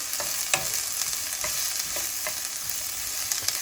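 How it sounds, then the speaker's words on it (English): Onions, eggs and bacon frying in a pan give a constant bright sizzle, with a few soft stirring scrapes spaced through it and no talk. "Give that a little stir."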